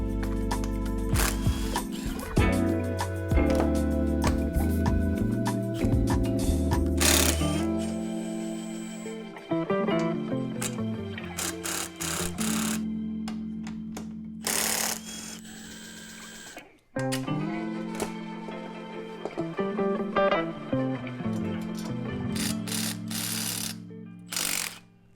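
Hand tools loosening and removing the old exhaust system from a Honda CRF250F/CRF300F trail bike: close ratcheting clicks, metallic clinks and clatter of parts, busy and uneven with short pauses, no speech.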